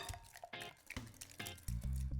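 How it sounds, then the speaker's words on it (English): Wet ingredients being poured into a bowl of dry ingredients for an orange raspberry coffee cake, heard as a few wet glugs, drips and soft squishy plops in short bursts, close and clear. "I'm gonna pour in my wet."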